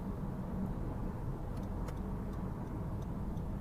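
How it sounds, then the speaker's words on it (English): Quiet, steady low rumble inside a 2017 Honda Civic 1.6 on the move, with soft road noise, a faint hint of wind and a few small ticks. "The faintest hint of wind noise, barely some road noise, very quiet"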